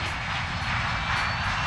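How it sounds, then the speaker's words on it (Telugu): A cartoon airplane's engine roars steadily as the flight takes off, a loud, continuous droning hum that holds level for the whole moment with no talk over it. "ఫ్లైట్ బయలుదేరింది."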